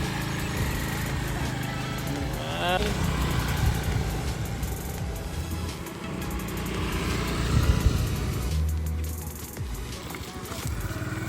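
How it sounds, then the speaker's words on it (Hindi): A scooter ridden on the road gives a steady, moderately loud engine drone with wind and road noise, rising and falling slightly over about eleven seconds, alone without talk. "तब तक मैं नीचे से स्कूटी चलाकर आ जाती हूँ।"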